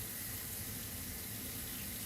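Tap water runs steadily into a sink while a Brandenburg C-2 part is rinsed out after soapy cleaning, a close, continuous rushing splash with no pauses.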